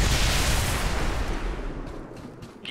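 Burst-fire gunshots in XCOM 2: War of the Chosen, a loud close volley of overlapping reports that decays into a rumbling tail, heard alone without voices.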